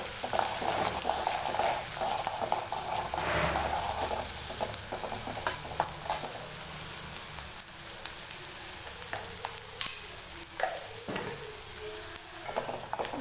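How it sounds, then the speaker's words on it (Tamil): Chopped onions sautéing in oil over a high flame for an egg fry, a continuous crackling sizzle with occasional stirring clinks and scrapes, no voices. "வெங்காயத்தை பார்த்திங்கன்னா ஹை ஃப்ளேம்லேயே வச்சு பார்த்திங்கன்னா நல்லா வதக்கிட்டேன்."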